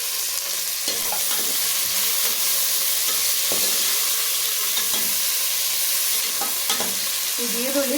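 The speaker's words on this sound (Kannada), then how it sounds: "ಇದು ಈರುಳ್ಳಿ ಚೆನ್ನಾಗಿ ಫ್ರೈ ಆಗಬೇಕು," Onions sizzle and fry in hot oil in a cooker for chicken biryani, a loud, steady hiss close by with occasional stirring scrapes and clinks, no voices.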